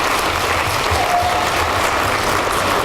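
Audience applause at a high school academic quiz competition, steady dense clapping from a crowd filling the room evenly for about three seconds at close range.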